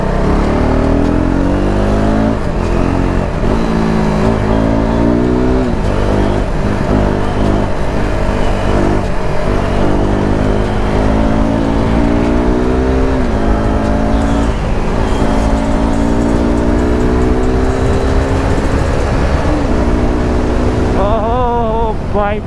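A KTM RC 390 BS3 motorcycle on a road ride, its engine loud and continuous with repeated rising revs and accelerating pitch sweeps, plus steady wind rush.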